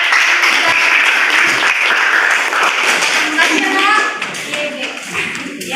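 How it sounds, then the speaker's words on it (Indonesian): A school class gives a round of applause, dense clapping filling the room for several seconds with voices mixed in before it thins out. "Beri aplaus buat"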